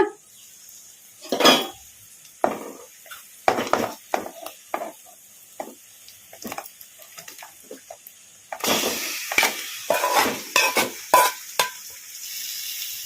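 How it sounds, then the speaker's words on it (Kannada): Marinated chicken fries in a pan while a utensil scrapes and stirs, giving repeated short clanks and scrapes over a soft sizzle that grows louder and busier partway through. "ಈಗ ಇದಕ್ಕೆ ನಾವು ಚಿಕನನ್ನು ನೆನೆಸಿಟ್ಕೊಂಡಿದ್ವಲ್ಲ ಒಂದು 15 ನಿಮಿಷ, ಈಗ ಇದನ್ನು ಹಾಕೋಣ"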